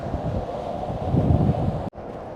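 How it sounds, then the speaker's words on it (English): Wind buffets the microphone on a ferry's sun deck, a loud steady rumble with gusty swells, briefly cutting out near the end. "It seems pretty windy on the deck"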